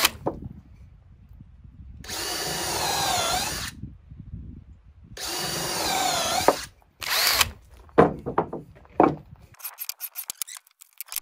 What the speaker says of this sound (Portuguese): Então vou furar mais essas pecinhas aqui.